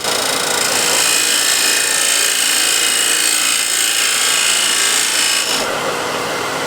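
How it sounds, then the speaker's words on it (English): A scraper guided by a square shapes a straight wooden flange, a steady dry rasping rub that runs without pause and then cuts off abruptly near the end. "I'll use a square and scraper."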